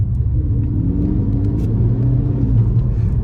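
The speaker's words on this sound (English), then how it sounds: "it is a strong, deep, bassy tone that's going on there" A warm Mk3 Ford Focus ST pulls hard on an open road, its engine a loud, deep, bassy rumble with rising tones under acceleration, heard from inside the car and steady throughout.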